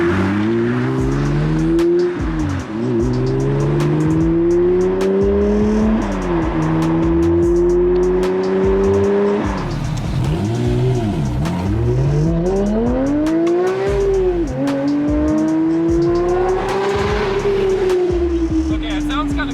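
Porsche 992 GT3 with a titanium exhaust driving hard, engine revving up and down in repeated sweeping rises and falls, loud and close, with talk heard over the engine.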